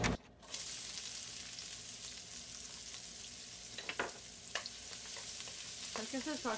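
A medium onion sautés in ghee over a medium flame, giving a soft, steady sizzle with a few brief scraping stirs, close but fairly quiet.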